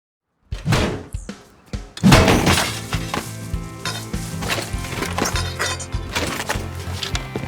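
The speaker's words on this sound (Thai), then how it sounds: "เสียงหน้าไม้" Crossbow shots in the video game Rust make sharp wooden thunks and clacks, a couple of separate hits followed by a rougher burst, loud and near over a busy game background.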